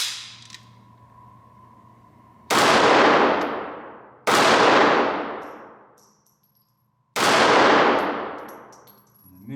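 A Walther CCP M2 .380 pistol is fired three times outdoors at steel targets. Each shot is a sharp, loud crack with a long ringing decay, and the shots are spaced about two to three seconds apart.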